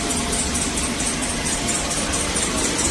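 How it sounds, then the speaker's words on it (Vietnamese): A Toyota Vios engine idles steadily with a continuous high-pitched squeal from the worn main serpentine drive belt riding over the low rumble, constant and close throughout. "Khi mà mình nổ máy lên nghe nó kêu đây. Kêu két két két két nè."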